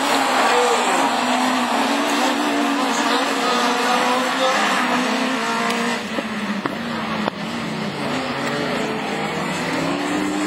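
An Audi A1 rallycross car at a Super 1600 rallycross event in Châteauroux, its engine roaring steadily and loudly throughout, mixed with crowd and commentary-like voices, with a couple of sharp transients near the end.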